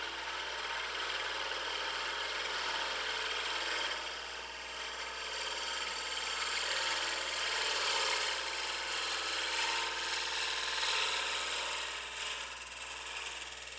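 A wood lathe spins while a gouge cuts a refined shape, giving a steady, continuous whirring hiss with slight swells, no voices heard.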